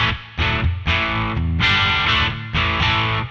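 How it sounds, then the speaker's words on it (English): An electric guitar played through the onboard overdrive of a NUX Cerberus multi-effects pedalboard gives loud, crunchy strummed chords in several rhythmic bursts, with no talking. "So right now, for example, I can turn on the onboard overdrive."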